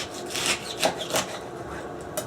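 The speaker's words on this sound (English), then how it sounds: "I'm going to cut off some of the leaves." Leaves are cut and trimmed from an artichoke, a series of short crisp snips and scrapes, close and fairly quiet, with no one talking.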